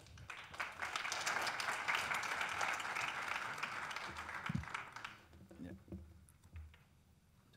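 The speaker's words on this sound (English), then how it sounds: "please, an applause to Marc" Audience applause for a speaker at a tech talk on random forests, sustained dense clapping that fades out after about five seconds into room noise and a few voices.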